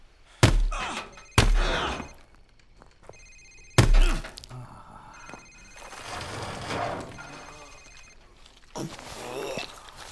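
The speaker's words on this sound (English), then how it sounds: "Sir, it's his cell phone." Cell phone ringing in Modern Warfare Remastered, a thin electronic ring heard in short repeated bursts. Heavy thuds hit around it and voices talk over the scene.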